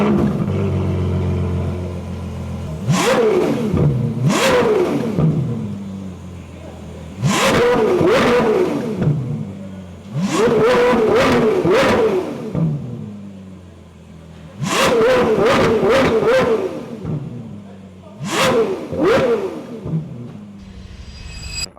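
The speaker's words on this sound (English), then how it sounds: "We're gonna give you some revs right now in stock format" A Dodge Challenger with its stock exhaust is revved in five separate bursts, each engine note climbing sharply and falling back to idle, loud and close with quiet gaps between them.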